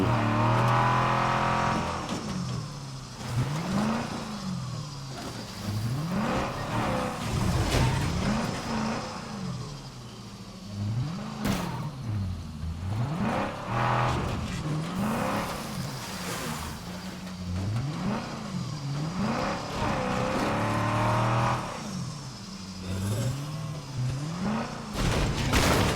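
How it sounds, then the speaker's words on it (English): A car in the zombie survival video game State of Decay 2 drives loudly, its engine revving up and down in repeated surging cycles that run without a break. "I say this car is really loud."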